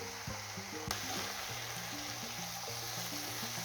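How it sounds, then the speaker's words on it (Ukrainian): Steady sizzling of eggplant frying in a pan, with soft scraping and stirring sounds and low clunks underneath, continuous and close. "Я це все перемішую потихеньку"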